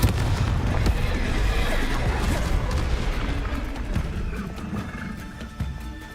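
Confringo fire-blast spell bursts in Hogwarts Legacy combat, a dense, loud crackling explosive roar sustained throughout with scattered sharp impacts, slowly fading toward the end.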